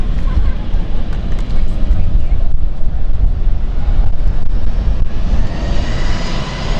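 Airliner on the Düsseldorf service at London City Airport, a loud, steady engine roar with heavy wind rumble filling the whole stretch, close and continuous.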